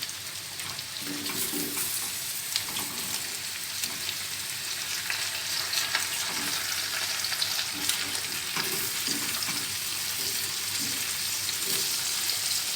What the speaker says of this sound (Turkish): Köftelerimin çok hafif kızardıktan sonra patateslerimi ilave ediyorum.